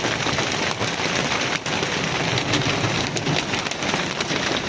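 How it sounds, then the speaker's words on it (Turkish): A heavy, unbroken barrage of very large hailstones drums loudly on nearby surfaces, a thick rattling hiss throughout. "Şirket büyüklüğünde dolu yağıyor."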